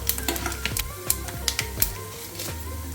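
Peanuts, dried red chillies and cumin fry in hot oil, giving a steady crackling sizzle broken by sharp, irregular pops and ticks as a spatula stirs the pan, close and moderately loud.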